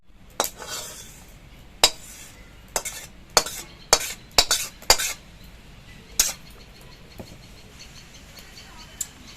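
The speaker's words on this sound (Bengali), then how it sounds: "এবার কড়াইতে একটু জিরে ভেজে নিচ্ছি।" Cumin seeds toast in a wok as a metal spatula strikes and scrapes the pan, about ten sharp, irregular clanks over a faint background, with no talk.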